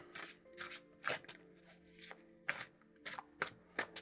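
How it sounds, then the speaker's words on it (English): Cards shuffled and drawn for a tarot-style reading, a series of close, soft riffling and sliding swishes in an irregular rhythm, with no talking. "So now we are going to draw 7 cards."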